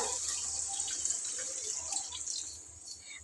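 Water pours steadily into a pan of simmering bottle gourd curry, a continuous close, even rush of liquid with faint splashy detail, and no voices.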